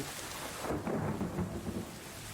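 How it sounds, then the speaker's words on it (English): Distant thunder rumbles low and rolling beneath steady heavy rain, swelling briefly in the middle before settling back into the wash of rainfall. "in the distance you start to hear a little bit of thunder rolling in"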